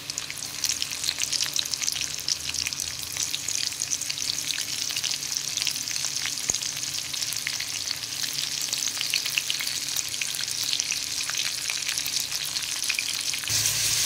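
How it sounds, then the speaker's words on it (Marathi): Garlic and cumin seeds crackle and sizzle in hot oil in a pan, a dense, continuous close frying hiss with scattered pops and occasional stirring scrapes, lasting the whole stretch without speech. "त्याच्यात मी लसूण टाकणार आहे अगोदर आणि जिरं।"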